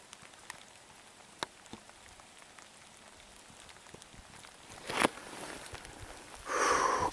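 Steady rain falls outdoors at dusk during a mule deer hunt out west, a soft continuous patter with scattered drop ticks that swells louder in brief gusts toward the end.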